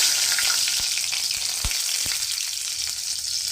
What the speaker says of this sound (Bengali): তো তেলের মধ্যে এবার আমি কিছুটা গোটা গরম মশলা ফোড়ন দিয়ে দিচ্ছি